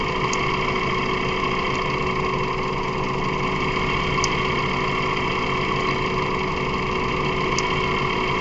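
A 2006 Mazda 3 engine idling with a blown head gasket between cylinders, a steady close droning hum with even low rumble and faint periodic ticks, no talking.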